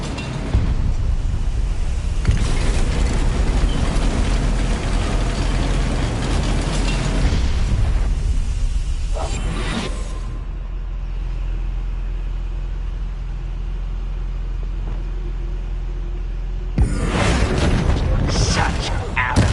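In Hogwarts Legacy, a Confringo fire spell detonates as a series of loud, sustained booming bursts over a constant game rumble, then drops away and returns with a fresh blast near the end.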